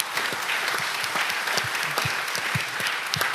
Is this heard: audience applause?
yes